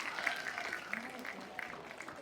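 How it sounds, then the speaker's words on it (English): Applause from students and teachers at a Teacher's Day event, a moderately faint spread of clapping that carries on steadily, with people talking underneath. "Big round of applause for all of you."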